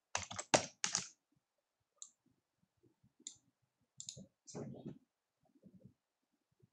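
A few bursts of clicking keystrokes on a computer keyboard sound close and quiet, scattered between pauses, with soft murmuring in the gaps.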